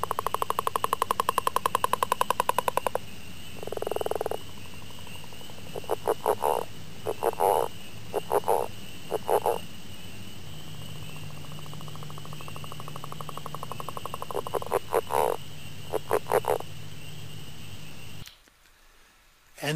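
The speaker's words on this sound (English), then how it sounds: "This is what a northern leopard frog sounds like." Northern leopard frog calling, long rattling snore-like trills and shorter bursts of grunting croaks repeating over a steady insect and night background, fairly close, ending abruptly.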